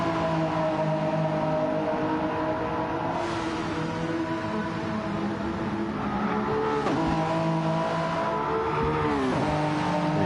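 A Veltman Midsport Lamborghini race car during a Petit Le Mans endurance race in a racing game: a steady, loud engine drone with layered harmonics and shifting revs, plus brief pitch swoops from other cars, with no talking.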